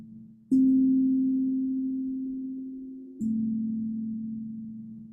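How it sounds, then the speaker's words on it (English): Pure sine-wave meditation tones hold steady and smooth, with a second tone starting partway through, each slowly fading. "The tones beckon and guide us forward."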